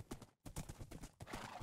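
Rapid, rhythmic clip-clop of horse hooves at a fast gallop in modded Minecraft, loud and close, with a brief pause before the hoofbeats resume.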